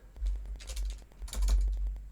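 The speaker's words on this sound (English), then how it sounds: "Now what we're going to do is we're going to type out" Rapid keystrokes on a computer keyboard, typing out a line of Python code, sounding in two close, clattering bursts with no talk over them.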